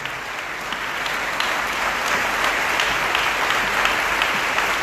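During a Sunday worship service, a congregation fills the room with loud, sustained applause, a continuous dense patter of many hands that holds steady throughout.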